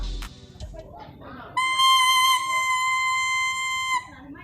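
A thin, reedy buzzing tone from the bamboo reed of a serunai folk pipe, steady and piercing for a couple of seconds, after brief fumbling and soft voices.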